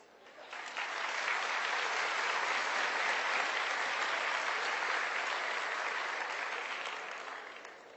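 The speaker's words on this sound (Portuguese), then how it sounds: "Gostaria que vocês se aplaudissem." A large audience claps in sustained applause at a Portuguese-language talk, swelling quickly and holding dense and steady for several seconds before tapering slightly at the end.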